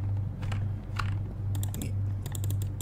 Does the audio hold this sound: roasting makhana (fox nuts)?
no